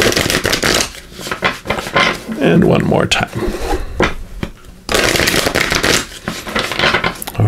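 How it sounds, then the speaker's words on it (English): Oracle cards being shuffled by hand, a few quick papery riffles and slides close up, with someone talking over and between them. "Let's give these a couple shuffles."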